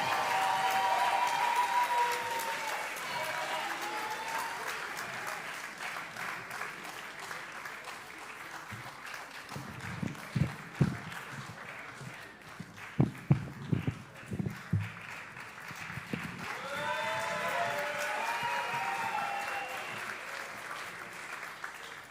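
Applause from the audience at a French slam poetry competition, the Coupe de la Ligue Slam de France 2024, fading in and out, with sharper individual claps and thumps bunched in the middle.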